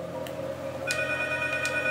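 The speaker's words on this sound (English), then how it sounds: "as the phone rings" A telephone rings in the horror video game Silent Hills, sounding as a steady electronic ring over a low hum. Short chime bursts repeat at regular intervals, clear and fairly loud, with no talking.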